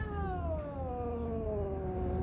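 A female village cat gives a long, drawn-out meow that slides slowly downward in pitch. It is close and fairly loud over a steady low background hum, with no talking.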